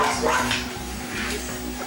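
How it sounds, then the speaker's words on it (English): A dog barks and whines repeatedly in a TV comedy scene, the sounds layered over a busy, fairly loud background of music or room noise. "That's a dog."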